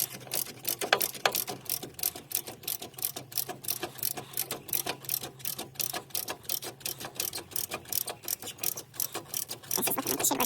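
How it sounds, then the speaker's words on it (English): A hand ratchet clicks in quick repeated bursts while tightening a bolt during a 2-inch lift kit install on a Land Rover Discovery 2, close and fairly quiet with brief pauses between strokes. "Just tighten this one up."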